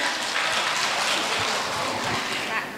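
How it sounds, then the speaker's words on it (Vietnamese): Steady, dense applause from a crowd at a Quan họ folk-singing club launch ceremony in Bắc Ninh, loud and continuous with no gaps. "Xin một tràng pháo tay thật lớn ạ."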